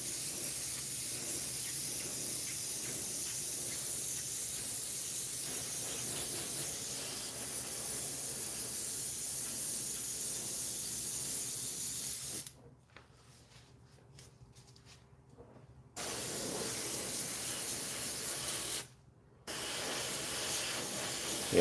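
Spray paint hissing onto a glued-together model kit with some excess epoxy on it, in long steady bursts broken by a pause of a few seconds and then a brief gap before spraying resumes.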